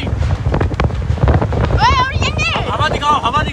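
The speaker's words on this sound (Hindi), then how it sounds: "हवा चल रही, गोलगप्पे उड़ रहे भाई" Wind blows hard outdoors on a street where golgappe are being sold, buffeting the microphone in a steady rumble while voices call out over it.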